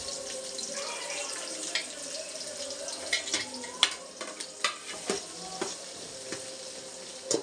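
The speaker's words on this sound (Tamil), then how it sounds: "வெங்காயம் நல்லா வதங்கட்டுங்க நல்லா பொன்னிறமாக வதங்கணும்" Onions frying in a pan for chicken biryani while being stirred, a steady sizzle broken by scraping and clinking stirring strokes at close range, with no talk.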